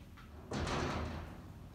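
A single loud rattling thud of a door shaking in its frame during strong wind in Korea, with a rushing wind-like noise that fades over about a second.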